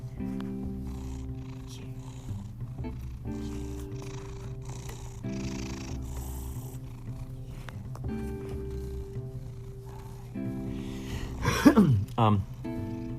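A cat purrs close by in a soft, steady rumbling drone, with a brief louder vocal burst near the end.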